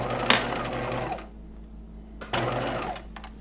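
A sewing machine stitching a seam in a slip's lining, a close mechanical whir running in two bursts with a brief pause between them, no talk.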